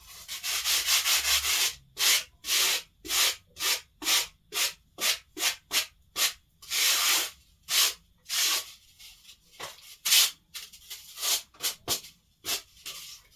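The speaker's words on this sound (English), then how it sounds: "rub the other piece of oasis on it to remove the bit." Rhythmic dry scraping as two pieces of floral foam are rubbed together, a steady series of rasping strokes, close and fairly loud with no talking.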